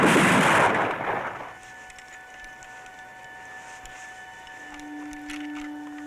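A volley of gunshots fired on command: one loud, close blast that decays into a fading rumble and echo, followed by quiet background with faint steady hums.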